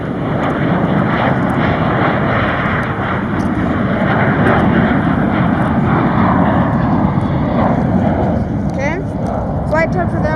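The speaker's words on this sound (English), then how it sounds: "The departure you're seeing right now is American 1158 to Phoenix, Arizona." An American Airlines jet departing Charlotte airport on a flight to Phoenix gives a loud, steady engine roar that fills the whole stretch, heard from fairly close outdoors.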